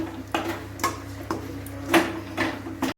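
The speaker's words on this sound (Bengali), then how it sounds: "এখন এটাকে আমি আবার ভালো করে মিশিয়ে নেব।" A spoon mixes cooked chana dal in a pan, with a series of close, distinct taps and scrapes of metal against the pan at an uneven rhythm.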